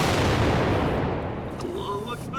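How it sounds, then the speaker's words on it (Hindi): A TOW missile strike hits an Assad army tank in a loud, broad blast that rolls and slowly fades over two seconds, with a voice faintly audible underneath. "TOW मिसाइल इसका इस्तेमाल कर असद आर्मी का टैंक कैसे उड़ा दिया गया"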